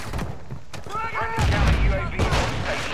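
Bursts of gunfire and a grenade explosion rumble in a Modern Warfare 2 match, loud and continuous, while players talk over the action.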